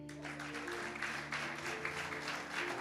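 Applause from a church congregation during an Easter sermon, steady and dense throughout, with sustained held tones, likely music or an organ, running underneath.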